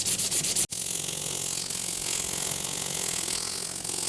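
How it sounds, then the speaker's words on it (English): Steady, loud scratchy rubbing of 100 grit sandpaper on a guitar's clear coat, continuous and close up after a brief pause near the start, with no talking. "we've got our 100 grit sandpaper"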